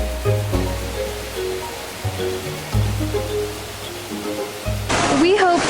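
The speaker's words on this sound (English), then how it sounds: "just the sounds of the water, the sounds of these waterfalls, which are just everywhere" Waterfalls spread across a site in Mexico give a steady, broadband rush of falling water that runs through the whole stretch. A voice and tonal sounds sit over it, and a louder splashing surge comes near the end.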